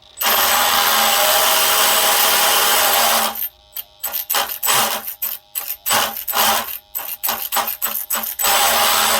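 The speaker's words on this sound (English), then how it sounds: "This one's supposed to spin counterclockwise. That one's supposed to spin clockwise." Twin electric motors of an RC drag boat spinning on the bench, a loud steady high-pitched whir that switches to rapid stuttering bursts and pulses before running smoothly again, close up with no talking.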